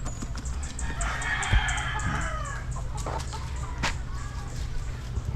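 SBR chickens cluck and squawk steadily in a noisy farmyard, with a crowing call partway through and a voice talking at times over the flock.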